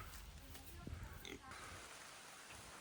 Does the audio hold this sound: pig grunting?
yes